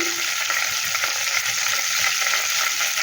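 Whole garam masala spices, cardamom among them, frying with cumin in hot oil for a Bengali banana-flower and prawn ghonto; a close, steady, dense sizzle runs unbroken throughout with no voices.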